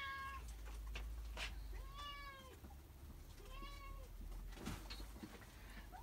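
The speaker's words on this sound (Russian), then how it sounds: "Кот пришел" A cat meows several times in drawn-out, rising-and-falling calls spaced a second or two apart, fairly close but quiet over a low background hum.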